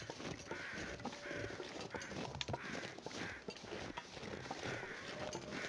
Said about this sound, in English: I also hear some birds. So some crows circling something.